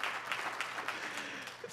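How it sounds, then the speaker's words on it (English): Scattered applause fills a church hall during a Pentecostal Sunday morning sermon, a steady mid-level wash of many hands clapping with faint background murmur. "people are clapping"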